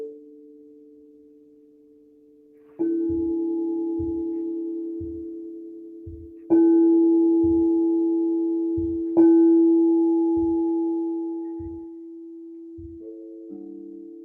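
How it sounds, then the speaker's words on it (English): Sound bath tones for guided meditation: sustained, steady tones that swell louder at three points, with soft, evenly spaced low pulses beneath, and no voices. "this mini opportunity for a little bit of taste of sound bath"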